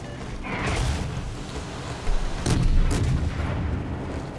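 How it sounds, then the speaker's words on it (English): Armor-piercing shells fired from the naval guns of the cruiser Duguay-Trouin in World of Warships at a Japanese carrier: a dense rumbling barrage with heavy booms, a stronger salvo near the middle, no talking. "Fire some armor piercing now at this Japanese carrier, the Zuhu."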